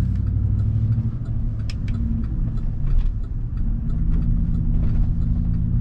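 An older, worn work truck rolls down the road, its engine giving a steady, close, loud low rumble throughout with no speech.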